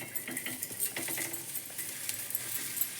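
Okra fries in a hot iron pan on the stove, giving a steady, hissing sizzle with light clinks and scrapes scattered throughout, close and fairly quiet.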